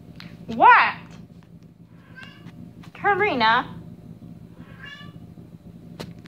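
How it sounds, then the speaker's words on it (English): A cat meows twice, two distinct rising and falling calls a few seconds apart, close and clear in a quiet room, with faint extra sounds between them. "Crazy cat. What do you want?"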